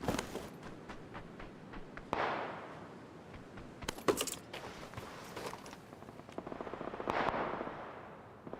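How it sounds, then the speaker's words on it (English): Scattered video-game gunfire aimed at the player, a mix of quick single shots and short rattling bursts at moderate distance over a steady background. "Someone shooting at you."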